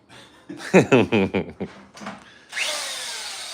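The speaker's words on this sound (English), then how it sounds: "you got to spin the drill backwards. It's a big drill." A large electric drill whirs up and keeps spinning steadily near the end, following a stretch of close speech.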